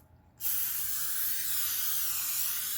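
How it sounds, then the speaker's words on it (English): Vegetable cooking spray hisses from an aerosol can into a casserole pan, one steady close continuous spray starting abruptly and holding for a few seconds. "This is just the regular vegetable spray."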